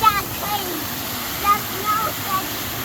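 A waterfall rushes steadily in the background as a broadband wash of falling water, moderately loud, while children talk over it.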